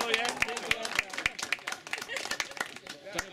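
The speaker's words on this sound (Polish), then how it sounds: "Wielkie brawa." Outdoor crowd clapping at a 2017 spring welcome festival in the village of Wróblewo, scattered close claps rising into applause, with voices talking over it throughout.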